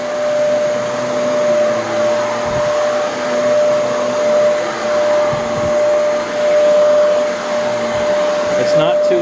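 Shark Rotator XL NV90 upright vacuum cleaner running on medium pile carpet, a loud, steady motor whine with a high tonal hum and a few soft bumps as it is pushed back and forth.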